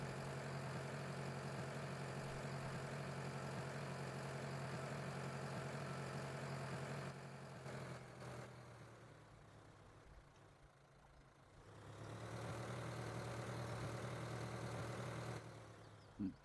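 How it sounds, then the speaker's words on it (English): A Ford tractor engine idles in Farming Simulator 2013, a steady low drone that dips in the middle and then returns, with no talking over it. "We'll just go drop off the plow and park this Ford tractor here."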